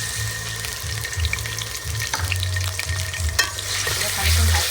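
Onion, garlic and ginger fry in mustard oil for a chicken curry, giving a loud, continuous close sizzle with bursts of stirring and scraping in the pan.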